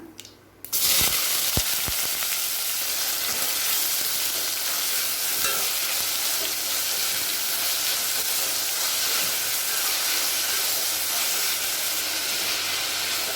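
Steady, loud sizzling of two finely chopped onions with curry leaves frying in hot oil for egg masala, a continuous crackling hiss that starts abruptly after a brief pause and persists throughout.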